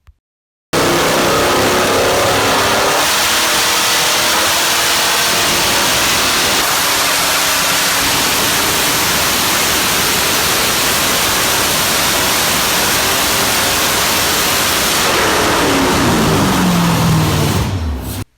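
A 5.3 V8 with a wet nitrous fogger on 100 horsepower jetting roars at wide open throttle, a loud, sustained, dense engine blast lasting well over fifteen seconds, shifting tone near the end before cutting off.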